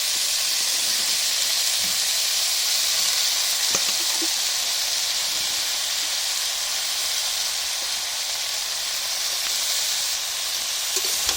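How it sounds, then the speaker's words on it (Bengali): Steady, loud sizzling as chopped spinach goes into a hot pan for Bengali palong shaker ghonto, a constant frying hiss with a few faint stirring clicks. "আমি দিয়ে দিচ্ছি কেটে রাখা পালং শাকগুলো।"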